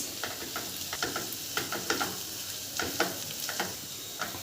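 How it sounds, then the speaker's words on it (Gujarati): Coriander-cumin powder and red chili stirred into spices frying in a pan for green pigeon pea kachori filling, giving a steady close sizzle with scattered light scraping clicks of the spoon throughout. "હવે હું ધાણા જીરું થોડું નાખીશ અને થોડું લાલ મરચું નાખીશ અને પાછું મિક્સ કરી દઈશ"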